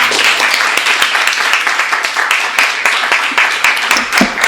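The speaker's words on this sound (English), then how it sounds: "Let's give Fran Krause a warm round of applause." Warm audience applause greeting illustrator Fran Krause at a talk, loud, close and sustained clapping from many hands with no voices over it.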